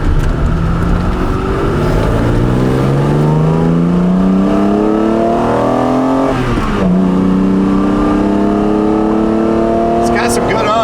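A freshly finished car's engine revs and climbs through gears while driving, loud and close, with rising and falling pitch sweeps and a brief dip midway.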